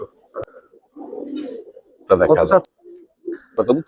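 Coloured and Giribaz pigeons offered for sale coo close by in soft, throaty bursts, with a brief flutter and a sharper call, between stretches of quiet.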